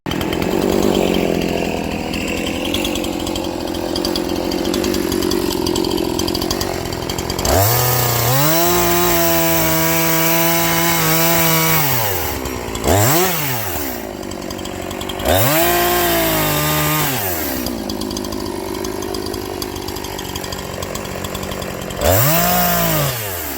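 A chainsaw cuts a fallen log into firewood lengths. The engine drones close and loud, bogging as the chain bites into the wood and revving up again between cuts, in several distinct passes.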